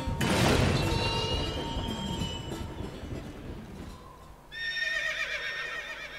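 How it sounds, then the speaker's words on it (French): A horse in the Princess Peach Showtime video game whinnies loudly over clattering hoofbeats and game music, then a second, higher neigh rings out after a brief dip. "Et de nouveau avec le cheval."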